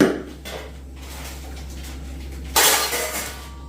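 Plastic lids and jars of a Bosch Truemix Pro mixer are handled up close, with soft knocks and a sudden loud plasticky clatter near the end over a low steady hum.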